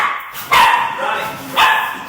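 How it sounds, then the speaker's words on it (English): A puppy barks indoors at close range, two sharp loud yaps about a second apart with a softer whine trailing between them. "Sorry. Dog intervention."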